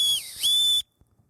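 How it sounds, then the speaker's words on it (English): A whistle built into a survival kit knife is blown once, a shrill piercing tone with a slight dip in pitch lasting under a second, then silence. "So you could blow a whistle"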